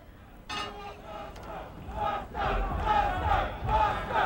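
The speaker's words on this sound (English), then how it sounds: "And the crowd is chanting Buster" Boxing arena crowd at a Tyson versus Buster Douglas fight chanting rhythmically in swelling waves, a large distant mass of voices rising and falling over several beats.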